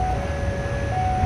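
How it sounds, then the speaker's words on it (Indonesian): Shunting train passing Kiaracondong station, a steady low rumble with sustained tonal whines, moderately loud and close, no talk. "Ternyata kereta api langsiran sahabat Explorer untuk rangkaian kereta api"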